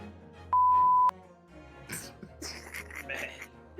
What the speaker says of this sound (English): What's that beep?